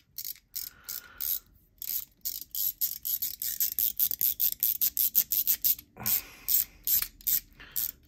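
The haptic wheel on an ACedc camera zoom slider clicks in rapid ratcheting bursts, a close, crisp run of mechanical ticks with one short pause before the clicking resumes.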